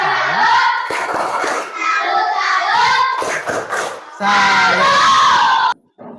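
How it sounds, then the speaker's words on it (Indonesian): Schoolchildren in a classroom performing a rhythmic 'tepuk salut' clap chant, loud group shouting in unison punctuated by sharp synchronized hand claps, ending in a cheer and a sudden cutoff. "Kasih tepuk salut untuk kelompok elang."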